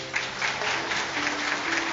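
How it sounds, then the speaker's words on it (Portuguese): A church congregation applauding during a Saturday sermon, steady moderate clapping from a crowded room with a faint tonal hum underneath, continuous for the whole stretch. "Eu posso ouvir o aplauso da igreja."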